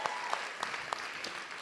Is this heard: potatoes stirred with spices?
no